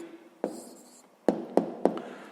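Pen writing an answer by hand during a sixth-grade maths exercise: a few short scratchy strokes and several sharp taps of the pen on paper, close and fairly quiet, with no talk.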